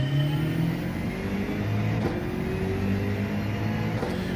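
Racing car in a video game on the Lago Maggiore circuit, engine droning loud and steady at full throttle, with tones slowly climbing as it gathers speed.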